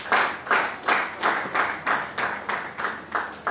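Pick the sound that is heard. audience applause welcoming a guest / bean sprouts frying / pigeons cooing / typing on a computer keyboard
audience applause welcoming a guest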